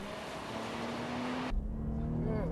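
A Mazda RX-8 rotary engine revs hard as the car launches for a quarter-mile run with some wheelspin, a loud sustained buzzing drone that shifts in character partway through.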